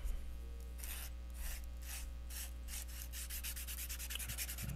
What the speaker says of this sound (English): I'm gonna get my sanding paper out here quick.